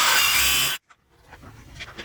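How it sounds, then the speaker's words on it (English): A power drill drives a screw into a wall stud for a French cleat, a loud close grinding whir that cuts off abruptly, leaving a brief clack and quiet room sounds. "and then I will drive these screws in."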